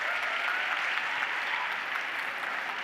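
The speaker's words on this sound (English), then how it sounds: "Let's get another round of applause" Steady applause from a conference audience fills the whole stretch, dense and even with no pauses, spoken over by no one.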